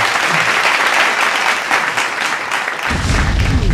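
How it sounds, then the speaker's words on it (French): Guests at a Congolese wedding reception in Columbus, USA applaud loudly and steadily, a thick wash of many hands clapping at once, with a low rumble of music or voices entering near the end. "Applaudissements"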